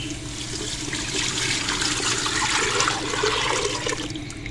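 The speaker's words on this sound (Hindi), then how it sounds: "अब हम इसमें डाल देंगे दही वाला मिक्सचर" A watery yogurt mixture poured into softened tomatoes in a pressure cooker for Punjabi kadhi, a steady rushing, sloshing pour lasting several seconds.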